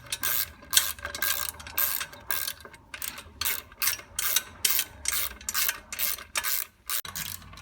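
Ratchet clicking repeatedly while bolts are tightened on a wooden stand during assembly, bursts of quick pawl clicks separated by short pauses, close and alone.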